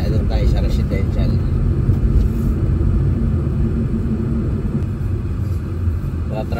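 Road traffic near a crowded Canada Day fireworks venue, a loud steady rumble of car engines close by, with people talking underneath throughout.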